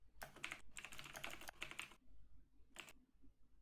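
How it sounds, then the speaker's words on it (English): Rapid clattering keystrokes on a computer keyboard, coming in quick bursts separated by short pauses, close and clear with no voices. "I can hear typing"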